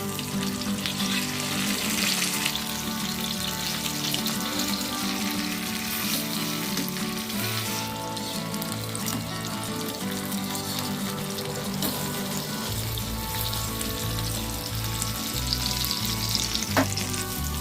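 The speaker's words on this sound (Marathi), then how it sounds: "तव्यामध्ये जितके मावतील तेवढेच आम्ही हलव्याचे तुकडे आहेत ते फ्राय करत आहोत" Pieces of halwa (pomfret) fish fry on a tawa with a steady, dense sizzle that holds evenly loud the whole time, with no talking.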